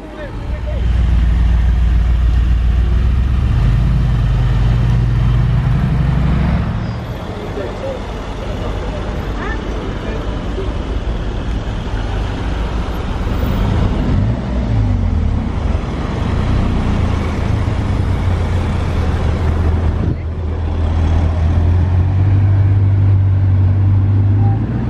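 Convoy of supercars including a Bugatti Chiron pulling away on a street in Juan-les-Pins, with loud engine rumble and traffic noise throughout, deep revs swelling and fading, people talking over it.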